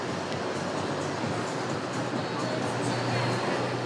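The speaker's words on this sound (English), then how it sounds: "we decided to catch a train up the coast to an area known as the Portuguese Riviera" A train travels along the Portuguese coast toward the Riviera, giving a steady, loud, dense rumble of rolling wheels with no distinct breaks, heard close up as if from inside the carriage.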